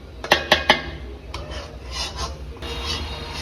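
Spiced meat and fried rice for biryani stirred in a metal pot: three sharp clinks of a spoon on the rim, then steady scraping and rubbing strokes, close and fairly loud.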